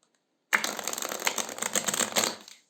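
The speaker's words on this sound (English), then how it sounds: "Let me shuffle for a second." Someone shuffles a deck of tarot cards by riffling it, a rapid, close, papery fluttering that starts abruptly after a short silence and runs for about two seconds before tailing off, with no talking.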